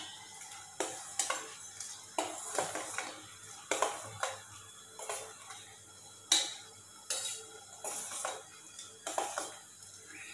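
Semiya and sago milk payasam being stirred in a pot, a spoon knocking and scraping the metal in a steady series of short clinks and swishes, close and fairly quiet, with no talking.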